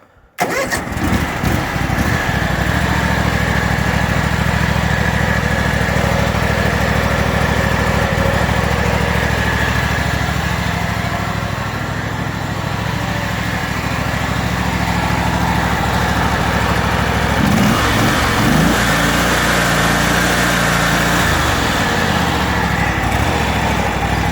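A John Deere X300R garden tractor lawn mower engine starts and then runs steadily. It gives a loud, close, continuous drone with no voices over it.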